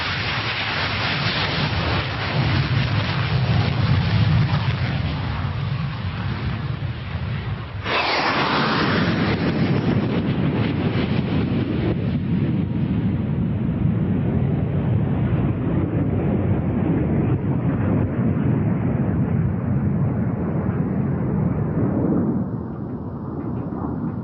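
Hawker Hunter jets of the Patrouille de Suisse, the Swiss Air Force display team, roar steadily overhead, a loud sustained broadband jet rush with a sharp surge partway through that slowly fades, no talking.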